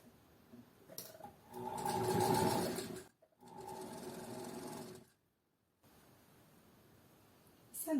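Sewing machine running a wide topstitch, with two separate stitching runs of fast, steady mechanical whirring divided by brief pauses, recorded close by, no voices.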